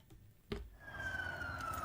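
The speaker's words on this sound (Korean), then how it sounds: "몰려든 경찰차와 사이렌 소리로 혼란스럽습니다." Police car sirens at a shopping area parking lot near Chicago after midnight, a faint distant wail rising into a sustained tone after a brief thump, over low background rumble.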